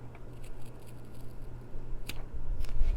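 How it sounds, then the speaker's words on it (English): Scissors trim the inside of machine-embroidered fabric for a dog treat holder, giving a few quiet, close snips over a low background hum. "we're going to go in with our scissors, and we're going to trim out the inside to make it nicer"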